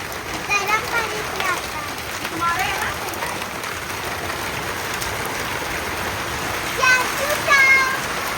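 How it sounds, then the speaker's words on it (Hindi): Steady rain pattering down, a continuous wash of drops with faint birdsong chirping through it now and then. "आज भी 2 बजे के करीब बारिश हो रही है।"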